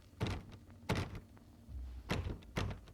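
A locked door rattles and thunks in a horror video game, four dull knocking jolts spaced unevenly over a low background hum, with no voices.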